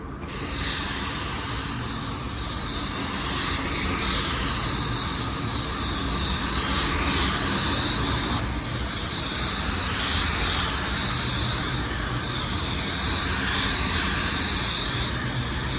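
Black Widow 2.0 spray gun spraying metallic car paint at about 16 PSI, a steady, loud, continuous airy hiss lasting throughout with no pauses.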